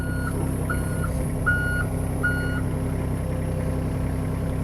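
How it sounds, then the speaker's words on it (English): A John Deere 26P excavator travel alarm gives four evenly spaced electronic beeps over the steady drone of the idling engine, loud and close. "you heard that beeping going on, even if I was going forward or backward"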